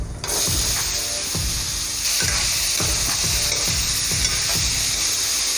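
Raw mango pieces drop into spices frying in a pan for a raw mango chutney, giving a steady loud sizzle broken by regular scraping strokes of a stirring spoon, with no voices.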